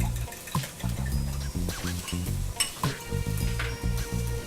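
Beaten eggs for an omelette sizzle in a pan over high heat while being stirred, with soft rhythmic scraping strokes and a continuous close frying crackle.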